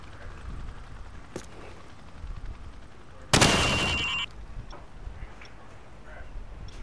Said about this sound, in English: Now shoot each target while aiming down the sights.